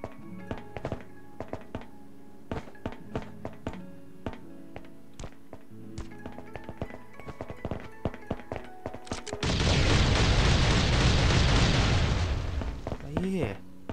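A loud explosive blast from Last Island of Survival bursts out after a run of sharp game thuds and taps, its dense roar lasting several seconds before fading, with a final crack at the end.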